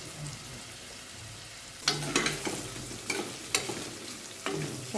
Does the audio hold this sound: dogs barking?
no